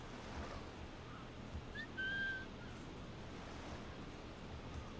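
Whistling in Assassin's Creed IV Black Flag: a short two-note whistle around the middle, fairly clear over steady wind and ocean surf ambience, with no talk.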